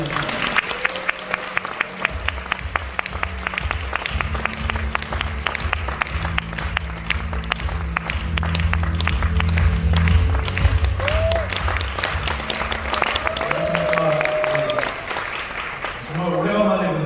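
An audience at a business meeting gives a speaker a big welcoming round of applause, steady, loud clapping that continues for several seconds with voices and music mixed in underneath.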